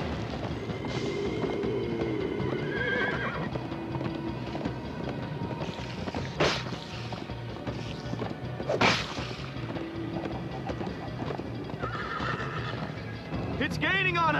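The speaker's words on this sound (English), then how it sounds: "First time on a horse here." A horse gallops and neighs in Minecraft Story Mode. Two sharp, loud whinnies cut through the rush of hoofbeats and wind, and several voices talk over the ride.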